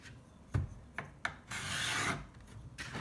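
A wooden pencil being sharpened, heard as a few short scraping rubs followed by a longer grinding rasp of blade on wood, close and fairly quiet, with no talking.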